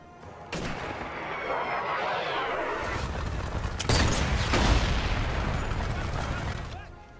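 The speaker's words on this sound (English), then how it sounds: "I just wasted 5 shots on nobody." Gunshots from the sniper rifle in the VR game Sniper Elite VR, a sustained rumbling barrage with several louder blasts near the middle, heavy low boom and wash of noise throughout, a voice faintly underneath.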